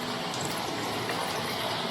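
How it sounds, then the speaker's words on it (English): Water flowing down rock shelves, a continuous dense rushing wash, steady and fairly loud with no pauses. "I'm going to try and include these rock shelves here and that water flowing its way down."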